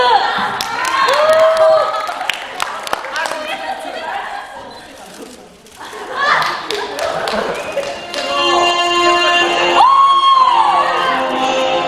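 Crowd of fans clapping and cheering at a Mamamoo fan-signing event in Ilsan, a busy, lively burst with whoops and thumps running through most of the stretch, mixed with nearby talk and laughter.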